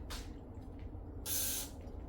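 Two short bursts of power wash cleaner from a spray bottle, a brief faint puff followed by a longer, louder hiss, close by in a quiet room.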